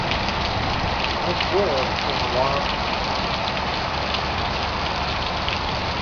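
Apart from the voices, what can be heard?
heavy rain flooding a street in the Arizona desert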